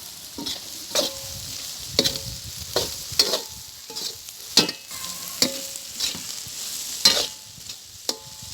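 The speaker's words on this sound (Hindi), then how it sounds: "आपने बहुत देर इसको फ्राई करना है ताकि ये गल जाए" Chopped vegetables fry in a hot pan with a steady sizzle, punctuated by regular scraping strokes of a spoon stirring them about, close and moderately loud, with no talking.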